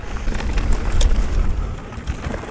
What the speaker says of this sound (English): apologies for the noise of my bike.